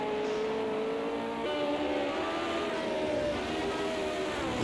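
Lotus 49 race cars on the Nordschleife in a racing video game whine along with a steady, nasal engine tone that rises and falls with gear changes, loud and continuous.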